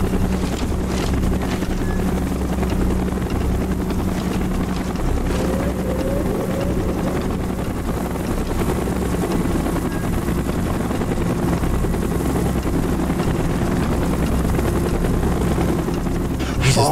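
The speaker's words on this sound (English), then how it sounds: "Chopper's inbound. Move it." A helicopter in the video game Call of Duty Black Ops gives a steady, loud rotor and engine roar that holds without a break for the whole stretch, with low mechanical rumble throughout.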